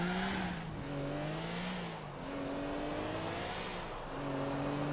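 A car engine in GTA 4 revs and drops through shifting gear tones, climbing and falling in pitch over road noise, loud and steady throughout without any voices.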